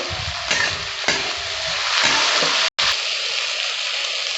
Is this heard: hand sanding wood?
no